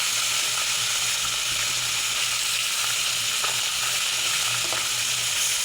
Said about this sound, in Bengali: মাছগুলো সব লাল লাল করে ভেজে নেবো।